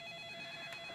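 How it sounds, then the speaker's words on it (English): Telephone ringing faintly, a steady electronic ring tone sustained through the brief moment, quiet and unaccompanied by voices. "Ida, don't you think maybe, the phone?"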